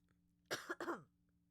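A person coughs twice in quick succession, a close, dry cough with a throaty rasp, followed by silence in a quiet room.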